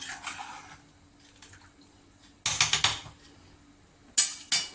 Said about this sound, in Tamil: இப்போ சேர்த்துட்டு நல்லா மிக்ஸ் பண்ணி விட்டுக்கலாம்